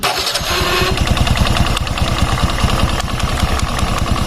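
A motorcycle engine cranks and catches, then settles into a loud, close idle with a rapid steady pulse; the bike has a knocking noise on the right side of the engine at idle.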